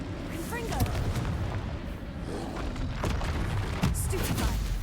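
Confringo blasting-curse explosions in a dungeon video game, a dense run of booming, rumbling bursts with a voice calling out over the noise.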